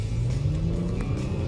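Mercedes-Benz C350 accelerating, a steady low engine rumble and rising drone heard from inside the car, loud and continuous with no talking.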